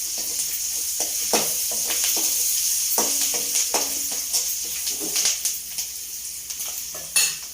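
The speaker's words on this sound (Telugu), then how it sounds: "కరివేపాకు ఒక 2 రెమ్మలు వేసుకుందాం." Curry leaves crackle in hot oil for a ridge gourd dal, a loud continuous sizzle close up with repeated scraping and knocking of a ladle against the pan, busier toward the end.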